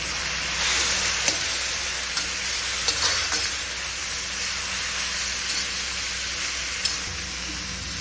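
Hakka noodles tossed with green chili sauce in a hot pan give a steady close sizzle, broken by a few sharp clinks and scrapes of the stirring utensil. There is no talking.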